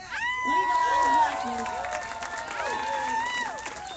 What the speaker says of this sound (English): Second round of applause, people.